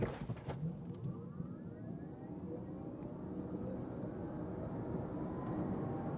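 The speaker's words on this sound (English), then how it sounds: "That was 0 to 100 kilometers an hour or 60 miles an hour with the 55 model." An Audi Q8 e-tron 55 electric SUV accelerates from 0 to 100 km/h, a steady rising whine over broad road and wind rush that swells gradually across the run, heard from inside the cabin.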